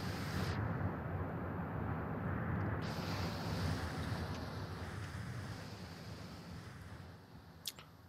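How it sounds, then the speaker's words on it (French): A waterfall in the video game Outer Wilds gives a steady, broad rushing roar that stays constant and fairly distant, like wind and surf, with no voices. "Une cascade."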